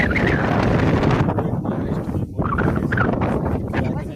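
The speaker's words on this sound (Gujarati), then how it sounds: "એવો પવન મસ્ત" Steady wind on a hilltop buffets the microphone with a loud, continuous rumble and roar, gusting throughout with no other clear sounds.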